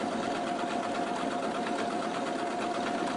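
An elna eXcellence 760 sewing machine stitching a decorative pattern, a steady continuous mechanical whir with a fine rapid needle rhythm throughout, close and even.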